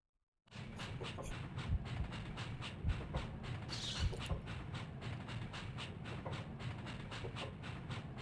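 A train in the Breath of Fire 3 video game rolls along with a loud, steady rumble and rhythmic clickety-clack that starts abruptly and runs continuously, with no talk.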